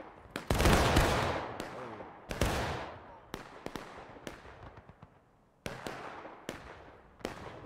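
Musket volleys in the War of Rights video game during a large 300-player battle, a dense ragged burst of booming shots followed by scattered individual cracks and another cluster, some near and loud, others farther off.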